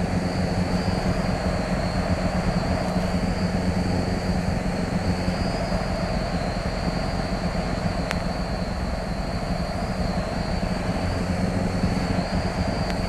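Light aircraft, an Aubert TB9, takes off from runway 08 right, heard from inside as a steady, loud, droning engine roar with a constant whine, no talk.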